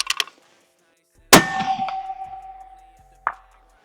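A rifle shot cracks sharply, then a bullet strikes a steel plate target with a loud ringing clang that slowly fades. A second, fainter metallic ping follows about two seconds later.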